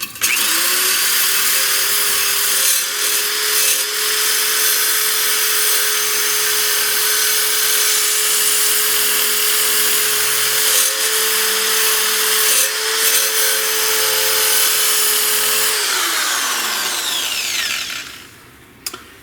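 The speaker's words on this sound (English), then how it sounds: "So we got ourselves a stainless bristle brush, and we're just going to really mess up the surface here." A power-driven stainless steel bristle brush scours a metal surface on a blowoff valve before soldering, a steady, loud whirring grind that holds for about sixteen seconds and then winds down to a stop.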